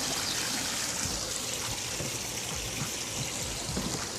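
Water trickles and splashes steadily in a backyard koi pond, a continuous close bubbling with no one talking.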